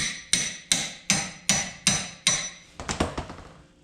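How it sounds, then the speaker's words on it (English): A metal hammer tapping a wrench on a 2004 Ford Escape suspension part, six sharp evenly spaced metallic strikes followed by a quicker cluster of lighter taps, close and loud. "I'm going to give it some taps with the metal hammer."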